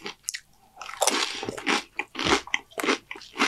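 Spicy homemade Dorito bag nachos crunched and chewed up close, a string of loud crisp bites and wet chewing bursts in uneven rhythm with brief quiet gaps.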